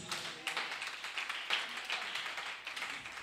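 A church congregation claps steadily and rather densely for a few seconds, a continuous wash of hand claps with no voices over it.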